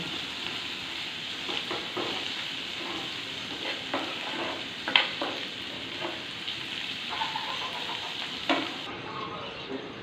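Bitter gourd frying in a pan gives a steady, close sizzle with scattered stirring scrapes throughout, with no voices.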